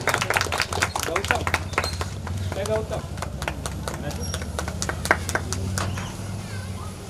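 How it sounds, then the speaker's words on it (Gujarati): An audience at a village library inauguration claps steadily. Dense, fairly close applause runs throughout while someone speaks over a hall microphone. "મિત્રો તાળીઓથી વધાવી લઈએ જોરદાર."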